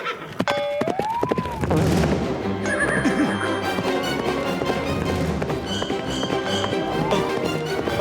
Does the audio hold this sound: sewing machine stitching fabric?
no